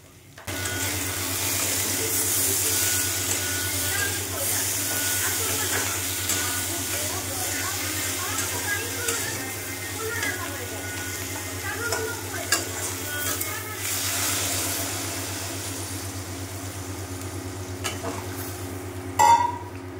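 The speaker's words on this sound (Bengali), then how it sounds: "এবার ওই কড়ার মধ্যেই সমস্ত সবজি দিয়ে একটু ভাজা ভাজা করে নিয়ে" Potato and onion-stalk vegetables fry in a wok with turmeric, chilli and cumin powder, giving a continuous sizzle with occasional stirring scrapes and a steady low hum underneath.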